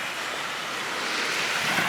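Waves wash onto the Lake Michigan shore at Grand Mere State Park, Stevensville, a steady hissing surf that swells slightly louder toward the end, with no one talking.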